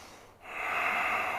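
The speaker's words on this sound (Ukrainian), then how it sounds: "Вдих, видих, вдих." Breathing during a breathing exercise for bronchial asthma: a single audible breath, near and steady, rising after a short pause and continuing to the end, with no talk.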